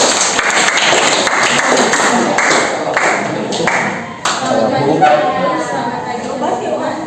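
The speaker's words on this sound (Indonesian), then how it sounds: "kita tepuk tangan dulu." A classroom group claps hands together in a few bursts of sharp, bright claps, mixed with chatter and light tapping, followed by a lull and then quieter room noise with talk.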